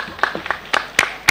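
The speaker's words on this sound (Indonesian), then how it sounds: "Tepuk tangan." Several sharp hand claps ring out at a school closing ceremony for a language and national month event, scattered and uneven rather than a full round of applause, fairly close and moderately loud.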